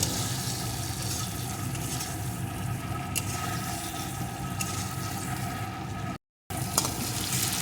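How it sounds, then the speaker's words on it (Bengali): Diced capsicum cooks down with spices in a pan for an egg dish, giving a continuous, moderate sizzle with faint stirring scrapes and a brief cut to silence near the end; no voices. "এখন এগুলোকেও মশলার সাথে একটু কষিয়ে নেব"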